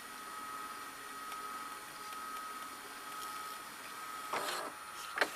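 Hitachi VT-FX6404A VCR tape mechanism running, a quiet steady motor whir with a faint high whine, ending in a couple of soft mechanical clunks.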